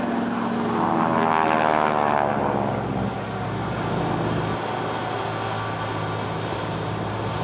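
A restored T-6 warbird with a Pratt & Whitney 600 hp radial engine roars overhead at an air show, a loud steady propeller drone that rises as it passes close, then fades into a broad rumble.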